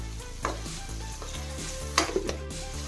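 Ingredients for bansi rava upma fry in a pan with a steady sizzle, overlaid with a few quick stirring scrapes and clinks, with a melodic background tune playing throughout.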